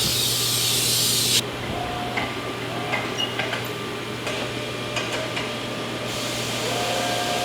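A large vacuum lifting pad gripping a cut stone countertop slab in a fabrication shop, a loud steady hiss that cuts off abruptly, followed by quieter shop ticks and clatter.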